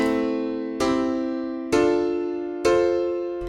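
Four sustained synthesized chords of standard triads played from a piano roll, each struck cleanly and ringing with a slow decay before the next, evenly spaced and alone without talk.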